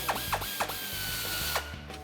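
Ratchet wrench tightening sway bar end-link bolts on a 2005-2014 Ford Mustang, a quick series of close, sharp clicking pawl strokes in short bursts with brief pauses between.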